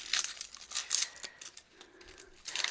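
A small onion is peeled with a small paring knife, making faint, close papery crackles and scratchy bursts in short irregular clusters.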